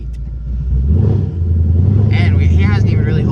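An 800 horsepower Mustang drives with a loud, close engine rumble that builds and holds steady under the revving, as people talk inside the car.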